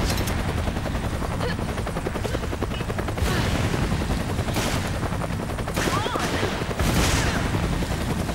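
Bursts of gunfire in Resident Evil 5 Versus, with rapid repeated shots and a few sharper cracks over a constant rumbling game backdrop; dense and continuous, no clear speech.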